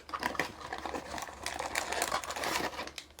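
A plastic bag crinkles and rustles while a prize figure box is opened, with close, busy crackling bursts that rise and fall in quick handling movements.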